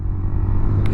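Mini moto bike ridden at full throttle along a Colorado highway, its engine a low steady rumble mixed with wind roar through one continuous second.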